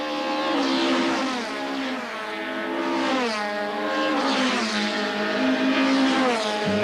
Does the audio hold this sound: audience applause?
no